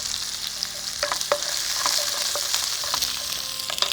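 Onion and garlic fry with a steady sizzle in a pan while a spoon stirs them, scraping and tapping the metal in irregular strokes close by.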